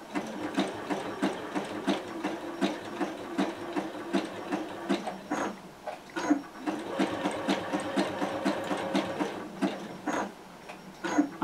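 A sewing machine stitches a door wreath in bursts of rapid, rhythmic needle clatter that stop and start while the fabric is pivoted on the left side of the needle, with a few louder clicks in between.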